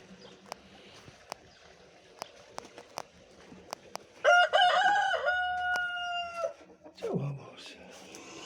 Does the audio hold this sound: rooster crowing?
yes